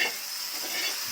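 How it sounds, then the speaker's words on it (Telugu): Hot tempering poured into peanut chutney, a brief, bright sizzling hiss that stays steady and close for about a second. "ఈ తాలింపు ఈ పచ్చడిలో వేసేస్తున్నాను."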